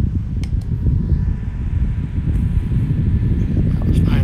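Opolar 5.5-inch blue USB desk fan running at 5,000 RPM, a steady close whooshing rush of air with low rumble and a faint motor whine, constant throughout.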